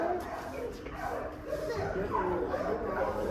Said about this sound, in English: This is where you can see the dogs instead of going in the inside smelling the poopy.